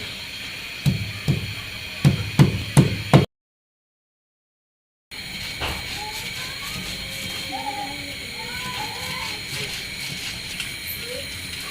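Dried bamboo-leaf fish (shutki) is pounded into a paste with fried onion, green chili and garlic. A run of about five sharp, rhythmic thuds is followed by a pause and then a quieter stretch of kitchen background.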